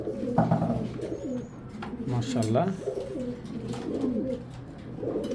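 Pigeons coo in soft, repeated low warbles close by, with a voice briefly exclaiming over them.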